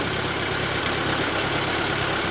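A 1939 Ford 9N tractor's engine runs steadily at a loud, close idle, a continuous rough rumble with no talk over it.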